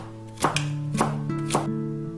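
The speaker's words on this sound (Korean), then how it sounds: "대파 반대는 길게 반으로 썰은 후 송송 썰어주세요." Kitchen knife slicing green onion (leek) on a cutting board: three crisp, evenly spaced chops sounding close over a faint steady tonal background.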